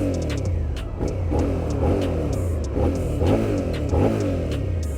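A Suzuki motorcycle engine revs in bursts, pulsing up and down in a steady, close rumble with repeated throttle blips and no talk over it.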